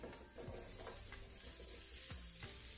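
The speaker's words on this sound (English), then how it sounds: "Just listen to these sizzle the second they hit that tray." Halved Brussels sprouts hitting a hot oiled tray, crackling and sizzling steadily, with a few sharp clinks and scrapes of the tray layered over the hiss; fairly quiet and close, with no talking.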